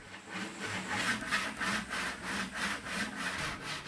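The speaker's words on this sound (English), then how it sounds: "he uses a good old-fashioned saw" A hand saw cuts through wood in steady back-and-forth strokes, a regular rasping rhythm of about eight strokes, quiet and close.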